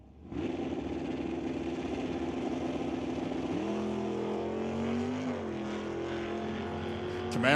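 A 2000 Dodge and a Camaro drag race, engines droning steadily at a distance and then rising in pitch as one car accelerates, with a commentator talking over the roar.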